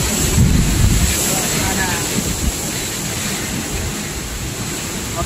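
Super typhoon Rolly lashing the area with roaring wind and crashing waves, a steady loud rumble buffeting the microphone throughout, with a person speaking briefly over it.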